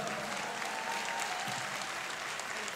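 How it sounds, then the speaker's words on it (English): Audience at a live Beatles tribute show applauds, dense steady clapping from a crowd that holds at an even level throughout. "Big round of applause for her."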